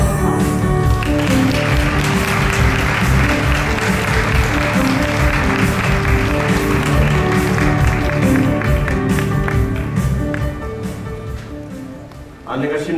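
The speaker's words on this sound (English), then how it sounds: "Please welcome presenters with a warm round of applause." Audience at a Samsung SSD global summit claps in a sustained, dense round of applause that fills the hall, holding steady for about ten seconds before tapering off, with a voice briefly over it at the end.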